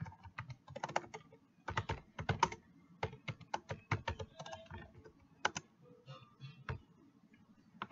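Computer keyboard typing code, with bursts of quick keystrokes and short pauses, close and clear, no talking.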